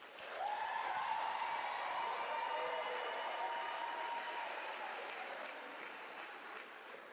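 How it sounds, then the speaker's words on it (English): Graduates receive a round of applause at a University of South Africa autumn graduation ceremony, a broad wash of clapping from a large hall audience that swells quickly, holds, then slowly fades, heard from a distance. "give them a round of applause"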